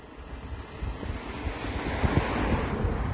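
Steady outdoor breeze with wind buffeting the microphone, a continuous broadband rush that swells slightly toward the end, no voices present.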